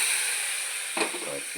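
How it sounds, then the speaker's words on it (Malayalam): Mustard seeds sizzle in hot oil with a steady, close hiss and faint crackle over a short stretch. A voice briefly speaks near the end. "കടുക് പൊട്ടി തീരുമ്പോൾ കയ്യിൽ കൊണ്ടോ അല്ലെങ്കിൽ കുറച്ച് ഒഴിക്കുക."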